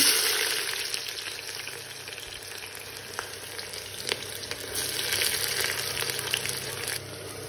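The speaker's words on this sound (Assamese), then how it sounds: "পিঁয়াজখিনি গলালৈকে অকণমান দেৰি ভাজি আছো" Onions for a mutton curry fry in a pan with a dense, continuous close sizzle and crackle, broken by a few small clicks and taps from stirring.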